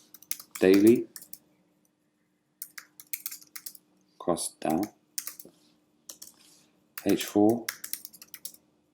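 Computer keyboard typing in quick irregular bursts of clicks, close and clear, with someone speaking briefly between the bursts.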